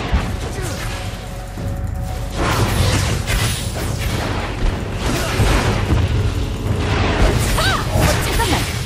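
Cannon fire in a video game where a dragon appears at intervals: heavy booms and whooshing blasts recur across a dense, continuous battle mix, with no clear gaps between them.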